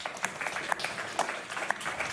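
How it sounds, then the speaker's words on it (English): Scattered audience clapping at a live press event on Arctic security, sparse and fairly faint, with individual claps popping out irregularly over a quiet room. "It's okay, you can clap. We love claps."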